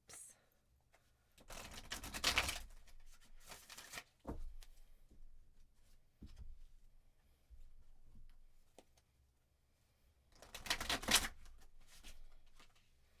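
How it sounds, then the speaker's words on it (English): Cards being shuffled in a few quick riffling bursts, separated by quiet stretches with soft handling noises and light taps. "I'm going to shuffle a few more times"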